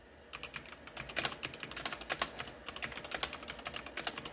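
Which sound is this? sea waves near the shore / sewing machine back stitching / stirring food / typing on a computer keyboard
typing on a computer keyboard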